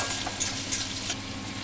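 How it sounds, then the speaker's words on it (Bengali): Onions with chopped garlic fry in a hot pan as they are stirred, giving a steady close sizzle with light scraping and a few brighter crackling bursts, no talking. "এগুলোকে একসঙ্গে সুন্দর করে নাড়াচাড়া করে নেব যাতে পেঁয়াজগুলো ভালোভাবে গলে যায়"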